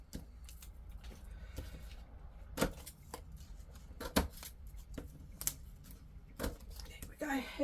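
Quiet snipping of scissors through paper, several crisp cuts at irregular intervals, close up with soft rustling and faint murmured talk.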